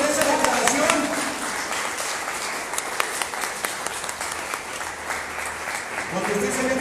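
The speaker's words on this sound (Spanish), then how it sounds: "Date un aplauso a ti mismo por esa declaración." A church conference audience claps for themselves, loud sustained applause from a crowd of many hands that holds evenly, with voices and cheers blending in near the start and end.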